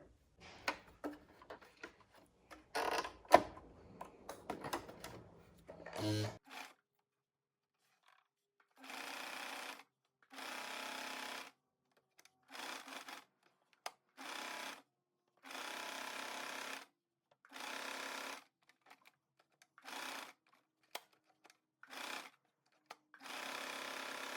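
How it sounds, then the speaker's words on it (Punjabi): A sewing machine stitches an extra piece of cloth onto a neck design in short repeated runs of rapid whirring, each burst a second or two long, with rustling and handling of fabric before the stitching starts. "ਇਹਨੂੰ ਆਪਾਂ ਸਟਿਚ ਲਗਾਵਾਂਗੇ ਠੀਕ ਹੈ ਇਧਰਲੀ ਸਾਈਡ ਤੇ ਅਸੀਂ ਸਟਿਚ ਲਗਾ ਲਾਂਗੇ ਪਹਿਲਾਂ"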